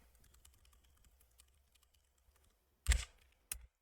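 A terminal command is typed on a computer keyboard: soft, quiet key taps patter for a few seconds, then two loud, sharp keystrokes stand out close to the mic.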